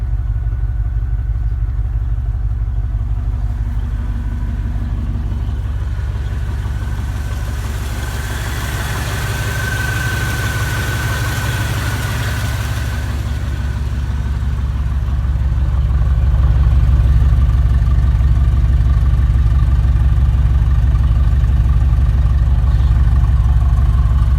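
A Chevy OBS V8 truck engine idles steadily just after its first start of the day, a loud, continuous low rumble that swells slightly toward the end, with no speech.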